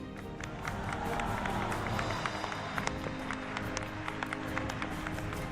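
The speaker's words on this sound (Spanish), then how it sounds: "En San Lázaro también fue recibido entre aplausos." A crowd applauding at San Lázaro in Mexico City, a broad continuous wash of clapping and crowd noise with scattered sharper claps, heard from some distance, steady throughout.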